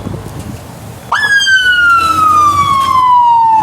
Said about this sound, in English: Cuts his siren on when he comes out of parking lot.